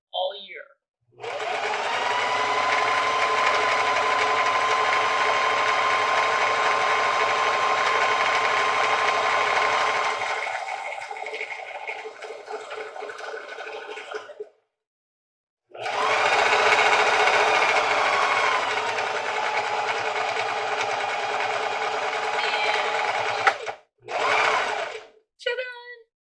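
A sewing machine stitches in long, steady whirring runs with a needle that has been in use all year, pausing once, then finishing with short bursts as the bobbin runs out.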